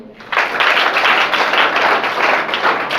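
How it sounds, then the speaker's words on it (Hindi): A burst of children and students clapping at a school workshop starts after a brief quiet moment and continues steadily, dense and close, with no voices over it. "तो एक बार अपने लिए ताली बजाइए।"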